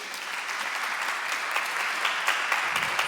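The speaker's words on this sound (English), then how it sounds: "Give him one more round of applause, please." A conference audience on a main stage applauds after a technical talk, a dense, even wash of many hands clapping at steady loudness, close and continuous.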